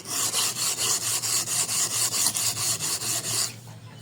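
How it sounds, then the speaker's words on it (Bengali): A rusty knife blade is rubbed along its back in steady, rhythmic rasping strokes, about three per second, close and fairly loud, before stopping near the end. "আগে এর পিঠটা ঘষে এর যে মরিচা আছে বা জং আছে সেগুলো দেখবেন পরিষ্কার হয়ে যাবে একদম"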